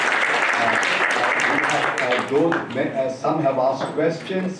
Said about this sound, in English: you might continue to clap, or you might do it again for the excellent audience we have had here this evening